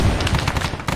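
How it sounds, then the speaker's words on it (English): A brief, loud, close burst of rapid machine gun fire in an Arma 3 Vietnam mission, with quick repeated shots and no speech. "It's just a machine gun."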